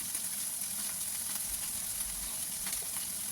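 Beef and garlic frying together in a pan make a continuous hissing sizzle, close and even, with faint crackles and no voices.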